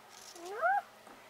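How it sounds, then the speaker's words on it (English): A pet cat gives a single clear meow, rising then falling, close and fairly loud against a quiet home background. "Look, you guys, it's the kitty."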